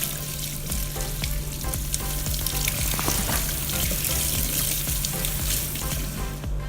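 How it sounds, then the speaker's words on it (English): Fresh basil stems rinsed under a running tap, a steady close hiss of flowing water splashing continuously throughout with no talking. "I've plucked a few or cut a few stems of basil and just rinsing it off."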